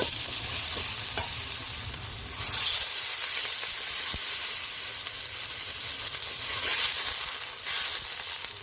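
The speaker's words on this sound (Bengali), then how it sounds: "মশলার থেকে তেলটা কত সুন্দর ছেড়ে গেছে এবার এর মধ্যে আমি জল দিয়ে দেব" Water is poured into frying spice masala for a jackfruit-seed and lentil curry, causing a loud surge of hissing sizzle and steam over continuous close stirring and frying, with no voices.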